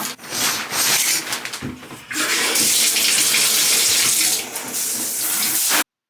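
Water runs steadily from a tap into a sink with splashing and rubbing as someone washes makeup off their face, close and continuous, cutting off abruptly.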